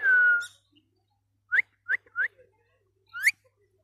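A green parrot gives a series of short, clear whistles: one longer opening whistle, then several quick rising chirp-whistles spaced apart. They sound close and stand alone against a quiet background.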